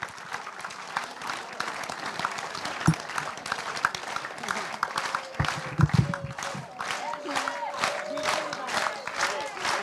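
A seniors' concert audience applauds a singer, uneven clapping with some cheering and voices mixed in, moderately loud and fluctuating throughout.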